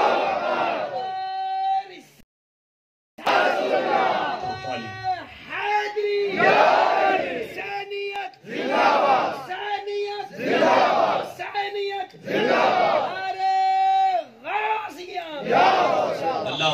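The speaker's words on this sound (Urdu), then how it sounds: "اب لگائیں نعرہ میں دیکھوں ذرا" At a religious sermon gathering, a crowd shouts a religious slogan (nara) in repeated loud, roaring bursts separated by short pauses, with a strong leading voice rising above the massed shouting.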